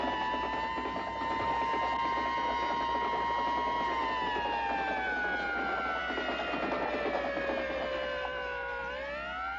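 A fire engine's wailing siren, steady and loud, its long tones sliding gradually downward before a quick rise near the end, with no voices over it.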